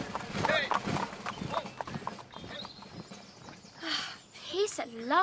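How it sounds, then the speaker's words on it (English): Horses' hooves clip-clop steadily as the king's horsemen approach in an audio drama of Alice through the Looking Glass, with a voice speaking over the hoofbeats and a brief whinny near the end. "Here come all the king's horses and all the king's men."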